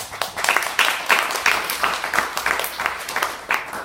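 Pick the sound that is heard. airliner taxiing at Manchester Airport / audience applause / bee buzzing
audience applause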